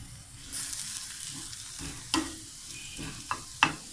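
Scrambled eggs with spinach and cabbage fry in coconut oil, giving a soft, steady sizzle close by, broken by a few sharp scrapes and taps as a utensil stirs the pan, with no voices.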